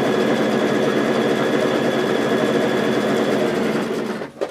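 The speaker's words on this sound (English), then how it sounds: "Okay, so I'm going to sew all 24 of those halves together" A sewing machine stitches flannel rag quilt pieces in one steady, loud, continuous run, its motor whirring evenly before slowing and stopping at the end.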